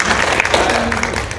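An audience at a community forum applauds to welcome a panelist, a loud close burst of steady clapping with a voice faintly audible underneath.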